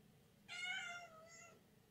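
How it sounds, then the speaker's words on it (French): A hungry domestic cat meows once, a single drawn-out, slightly wavering meow near and clear, followed by quiet. "Donc, alors là, on a le chat."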